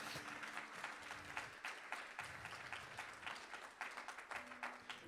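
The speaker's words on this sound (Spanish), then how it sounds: "Alguien que le dé un aplauso al Señor." Applause from a church congregation at a Spanish-language sermon fills the whole stretch, dense steady clapping with a few louder individual claps standing out, while a faint voice murmurs underneath.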